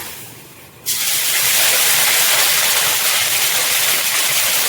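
Ginger dropped into hot oil left over from frying fish erupts into a loud, steady sizzle after a quiet second, the hissing spatter holding strong and unbroken to the end.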